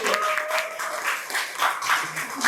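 An audience at a talk on literacy applauds, a short, steady burst of clapping from many hands, with a voice audible over it.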